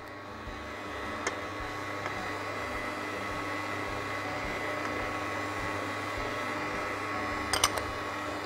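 Steady electric mixer whirring as it blends gluten-free baguette dough, a continuous mechanical drone with a few faint clicks near the end, no speech.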